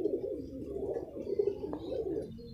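A pair of pigeons gives low, throaty coos, close and steady, as a pulsing, rolling murmur that runs for a couple of seconds with no other sounds.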